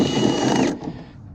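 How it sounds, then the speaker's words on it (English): A household clothes dryer running, a loud close mechanical whir and rumble that cuts off abruptly partway through, leaving a fading hum and then quiet. "The dryer turned off, so I ran in real quick, turned it back on."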